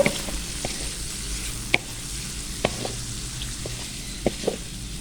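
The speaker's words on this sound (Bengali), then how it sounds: "ওই তেলেই আমি দিয়ে দিচ্ছি পেঁয়াজ কুচি পেঁয়াজগুলোকে নেড়ে চেড়ে কিছুক্ষণ ভেজে নেব" Chopped onions frying in oil, being stirred: a steady, moderate sizzle runs throughout with occasional soft knocks and scrapes of the spoon against the pan, no talk.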